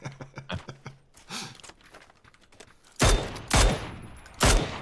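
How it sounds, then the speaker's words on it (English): Gunshots pop car tyres in the PUBG battle royale, a fast run of small clicks and taps giving way to three loud, close, blasting shots spread over the last couple of seconds. "Just popping up some tires."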